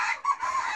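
Chickens on a smallholding cluck close by outdoors on a warm, melting winter day; a short burst of several overlapping clucks and calls, fairly faint.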